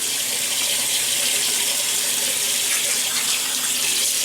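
Steady running tap water streams into a sink as a man wets his face before a straight-razor shave with a Pearl K2 dual-handle razor, a continuous close hiss with no talking.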